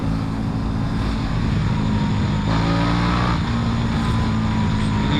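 A KTM RC 8 motorcycle engine pulls hard under acceleration, a loud, dense, continuous roar that climbs in pitch partway through, close to the rider with rushing wind and no speech.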